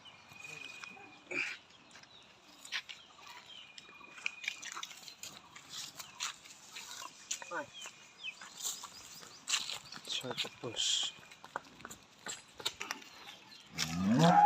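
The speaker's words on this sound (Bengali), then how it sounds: "দর্শক এই যে একটা গাভী দেখাচ্ছে" A pregnant six-toothed dairy cow, due to calve for the second time, moos on a farm in Jessore, with farm noises and people talking nearby.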